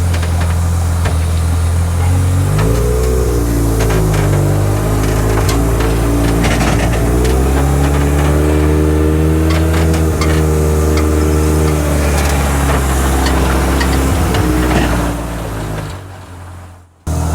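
Jeep engine running as it warms up, a loud close steady rumble with pitch rising and falling through several gentle revs before cutting off abruptly near the end.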